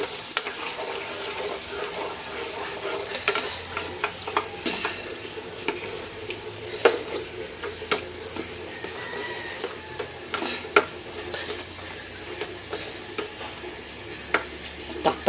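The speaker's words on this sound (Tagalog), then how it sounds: "Haluin natin." A spoon scrapes and stirs chicken cooked with tomatoes, chili and chicken stock in a pan, irregular clinks and scrapes over a soft continuous sizzle, close by.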